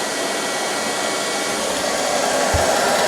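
An Ilife V3s robotic floor sweeper mops the floor with its pad down, putting out a steady, loud whirring drone at close range with a single low bump near the end and no voices.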